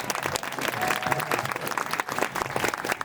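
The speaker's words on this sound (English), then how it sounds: "I think she deserves a round of applause" An audience at a parrot show in Malta claps steadily for a trained parrot, the applause close and continuous with a faint voice briefly under the clapping.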